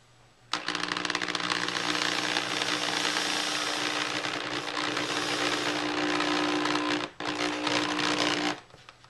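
A strong power drill drives large screws into a dragon bust build, whirring steadily and loudly for several seconds, with a brief pause before one more short run.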